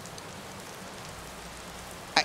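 Steady rain in Skyrim Special Edition hisses softly and evenly throughout, with one brief sharp sound near the end.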